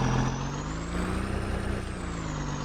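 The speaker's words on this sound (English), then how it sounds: "Drive in here with our truck." A farm truck driving in the Farming Simulator 19 video game, a steady droning engine hum with a constant low tone and a faint high whine, even and unbroken.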